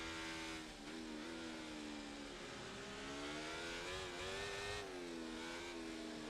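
A race car engine screams at high revs on the Abu Dhabi circuit while the driver heats the tires, a loud sustained whine with pitch rising and dipping through shifts and throttle changes.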